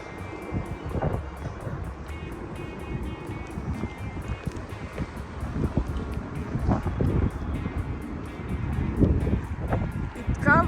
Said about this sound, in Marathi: इतका वारा आहे, तुम्ही हे पाहू शकतात.